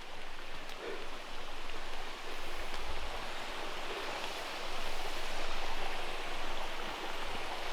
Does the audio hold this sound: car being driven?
no